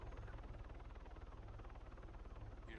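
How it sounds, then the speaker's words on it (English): Steady rhythmic rotor thrum of a police helicopter in the video game Arma 3, quiet and continuous with a low pulsing beat throughout. "It's the helicopter that it can make sirens too."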